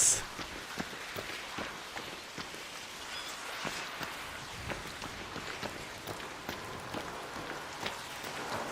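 Steady rain falls on a hard surface, a dense, even hiss of drops with scattered sharper taps and a few soft thuds throughout, heard close and continuous with no voices.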